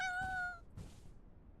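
A cat meows inside the video game Ranch Simulator, a single clear, drawn-out call followed by a softer second note, with quiet game ambience underneath.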